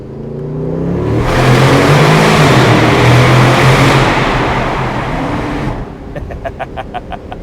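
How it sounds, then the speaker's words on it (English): A loud Aston Martin DB12 Volante exhaust roars and swells for several seconds in a tunnel, then fades, followed by a quick string of sharp crackling pops. "We got to go through a tunnel and hear this exhaust."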